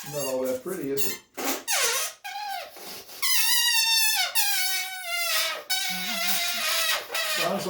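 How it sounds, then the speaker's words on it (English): Air rushes out through the stretched neck of a rubber balloon, setting the rubber vibrating into a loud, wavering, high-pitched squeal that bends up and down in pitch for several seconds, close and continuous with brief gaps. "the air coming out through this part of the balloon, that's called the neck, okay, just like this, makes the rubber in the balloon vibrate"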